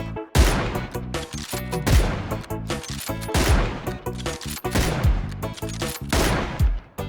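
Gunfire in the battle-royale game PUBG, with repeated bursts of loud, close shots and rapid automatic fire cracking in uneven clusters throughout, with no talk.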